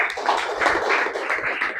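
A group of students in a classroom gives a short burst of clapping, a dense, even patter of many hands sustained throughout, with no voices heard.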